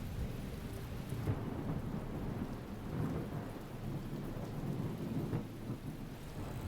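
Steady thunderstorm from The Talos Principle, with rain pouring continuously and low rolling thunder rumbling underneath at a constant loud level, no voices.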